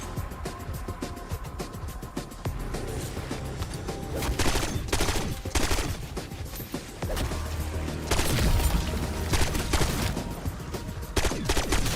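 PU-21 rifle shots in Black Ops 6 zombies, loud repeated gunfire in uneven clusters of single shots over a busy, rumbling game background, without speech.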